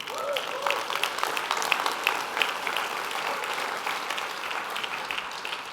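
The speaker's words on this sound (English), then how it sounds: "a big round of applause" A keynote audience at the DevNation 2016 tech conference claps in sustained, dense applause that stays fairly even throughout, with a brief voice heard near the start.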